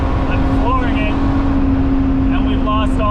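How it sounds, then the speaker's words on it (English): A 1985 Alfa Romeo safari rally car's engine runs at full throttle in the desert as a steady, loud drone with a strong low hum throughout, while people talk over it. "But listen to that engine. I'm flooring it"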